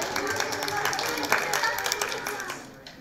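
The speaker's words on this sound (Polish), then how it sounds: "duże brawa dla grupy" A group in a classroom-style meeting gets a steady round of hand clapping from fellow attendees, dense and fairly close, fading toward the end with voices mixed in.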